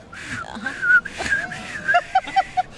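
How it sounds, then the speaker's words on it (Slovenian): Someone whistles a short tune with clear, bright melodic notes, phrased in several bursts and ending in a few quick separate pitches, close and prominent, with no talking. "Vsakdo zna žvižgati."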